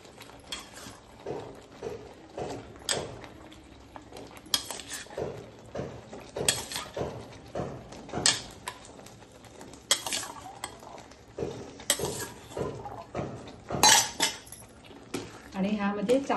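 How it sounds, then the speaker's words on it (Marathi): A spoon stirs chickpeas and spices in a cooking pot, making repeated scraping and clinking strokes in an uneven rhythm, close and moderately loud throughout. "आणि ह्यामध्ये चांगले ना मिक्स करून घ्या। प्रत्येक छोलेला आपला मसाला लागला पाहिजे"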